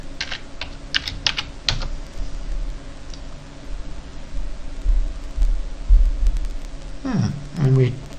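Fast clicking keystrokes on a computer keyboard as a software name is typed, bursts of close, crisp taps with short pauses and some low background rumble.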